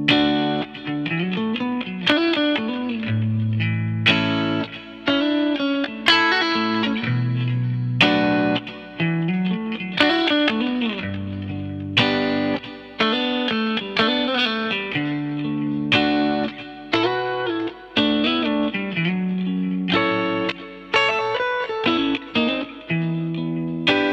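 An electric guitar plays plucked notes and chords through an Ego compressor into a Steel String Supreme pedal, sustained and shimmering with a distorted, chorused tone.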